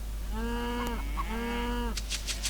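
A cow in the strategy game Age of Mythology gives two drawn-out moos, one after the other, clear and moderately close, followed by a few short clicks.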